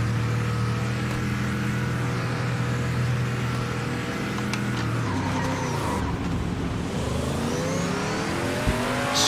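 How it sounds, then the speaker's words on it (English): A race car launching and accelerating in a racing video game, its engine loud and continuous as it revs hard and climbs through the gears, with rising and falling pitch throughout. "Let's get a good launch and overtake some cars."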